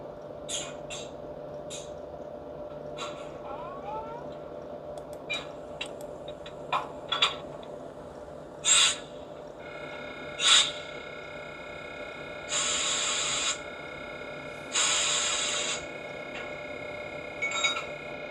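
A Roco 7510005 DCC sound model locomotive in special livery powers up: a steady electric hum with scattered light clicks, then two longer hissing bursts near the end, with no voices.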